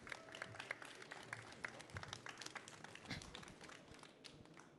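Faint, scattered clapping from a conference audience, with distinct individual claps and uneven bursts rather than a full roar, plus light knocks and shuffling in a quiet hall.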